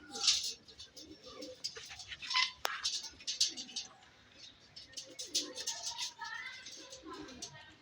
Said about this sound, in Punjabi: ਇਹ ਵੀ ਬਿੰਦਰ ਵਾਲੇ ਕਬੂਤਰ ਆ